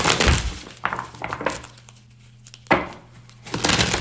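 Tarot cards being shuffled close by in short riffling bursts, a couple of rounds separated by quiet gaps.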